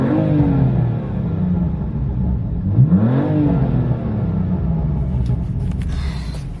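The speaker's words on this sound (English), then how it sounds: "I'll give it some revs now." A BMW F80 M3 Competition Pack engine idles with a deep, steady rumble, then a quick blip of revs swells and falls away before the engine settles back to a low idle, heard from inside the car.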